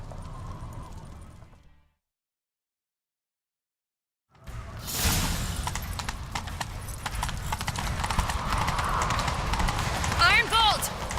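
Rapid clip-clop of horse hooves galloping close by in The Witcher 3: Wild Hunt, loud and continuous after a brief silence, with short speech at the start.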